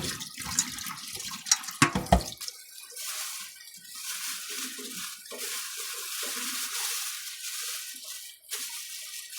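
Two tomatoes washed together under a running tap, water splashing and pouring steadily with handling noises early on, close and moderately loud, no speech.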